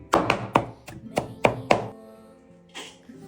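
A knife chops radish on a cutting board in a rural kitchen, about six crisp, evenly spaced thuds close by, then a pause and one softer knock.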